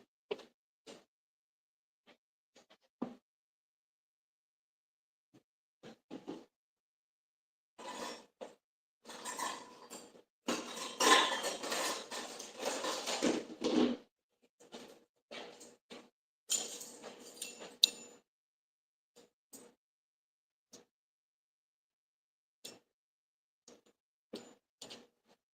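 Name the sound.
measuring spoons clinking while measuring baking powder and salt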